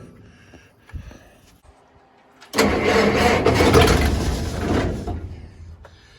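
A Massey 35 SP combine engine, primed with ether, cranks and catches at about 2.5 seconds, then runs loud and rough for a couple of seconds before easing back. Faint clanks come before it starts.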